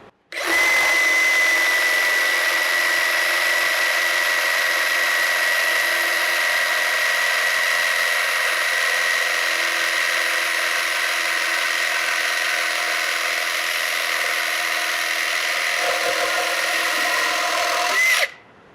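A power saw runs continuously as it finishes a plunge cut in wood, a loud steady high-pitched motor whine with cutting noise lasting about seventeen seconds, starting and stopping abruptly.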